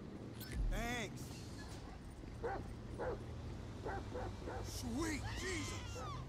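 Several short dog barks and yelps from a dog in GTA 5 ring out between stretches of people talking over a steady low background hum.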